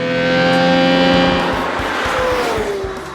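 A Yamaha supercar's 3.5-liter V12 revving to around 10,000 RPM, a loud, close, high wailing engine note that holds and then slides in pitch, with clear harmonic whine.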